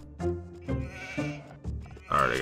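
Sheep bleating in the Age of Empires 2 strategy game, a few short wavering bleats scattered across the clip, with a louder bleat near the end, heard under steady talking.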